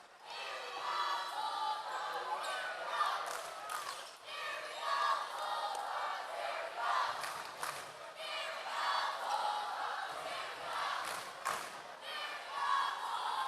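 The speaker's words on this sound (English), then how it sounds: "Crowd tonight been enthusiastic." Enthusiastic home crowd filling a packed high school boys basketball gym, with a standing student section, during a timeout: steady cheering and chanting at moderate distance, with claps and thumps breaking through.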